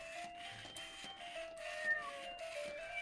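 Faint, repeated meow-like tones from a remote control robot toy kitten, with a whirring mechanical hum underneath, quiet and close, without any talking.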